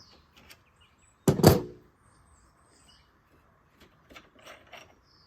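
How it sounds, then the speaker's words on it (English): A thread tap is unscrewed counterclockwise from a motorcycle bar end: one loud metallic clank near the start, then a few faint, scattered clicks, with no talking. "let's go ahead and remove the tap. This is just going to be counterclockwise all the way out."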